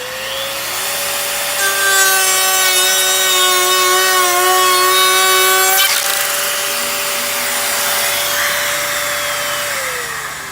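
A Festool router cuts a tenon into MDF with a loud, sustained whining drone, rising in pitch with a shifting tone midway, then running steadily before winding down.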